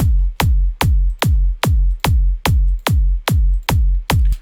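Layered kick drum built in FL Studio, a punch kick stacked with a hardstyle top kick, pounds eleven times in an even fast four-on-the-floor pulse, each hit loud, booming and slightly distorted with a quick pitch drop, nothing else heard.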